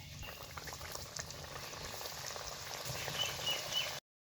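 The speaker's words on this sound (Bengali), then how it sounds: "এক এক করে পুলিগুলো ভেজে নিব।" Semolina rasa puli pitha dumplings frying in hot oil, a continuous close bubbling sizzle that swells slightly louder toward the end before cutting off abruptly, with no talking.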